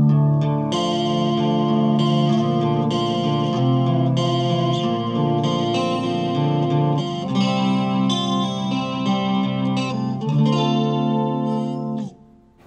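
Electric guitar played through its neck pickup alone, with effects and reverb, used for metal and rock tones, ringing out in sustained chords and melodic lines for about twelve seconds before cutting off.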